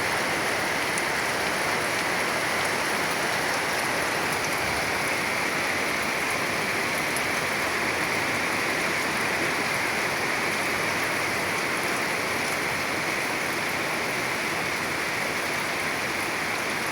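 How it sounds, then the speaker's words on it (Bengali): Heavy rain pours down steadily in Gazipur, Bangladesh, a dense continuous hiss of drops on surfaces lasting throughout with no voices. "এই যে দেখেন গাজীপুরে বৃষ্টি হইতেছে প্রচুর পরিমাণে বৃষ্টি হইতেছে"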